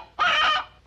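A single short chicken cluck, close and clear, lasting under a second with no talk around it.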